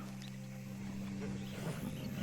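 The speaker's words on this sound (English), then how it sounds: "It's an actual tiger." A tiger in the western game Red Dead Redemption 2 gives a low, rumbling roar that swells over a steady droning background, lasting a couple of seconds.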